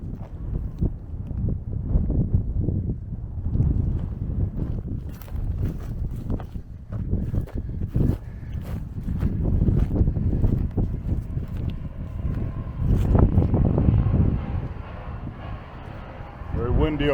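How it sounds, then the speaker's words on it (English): Strong wind on a hilltop beside a road in the Balkans buffets the microphone in continuous low, roaring gusts that swell and ease throughout, loud and close. "Very windy up here."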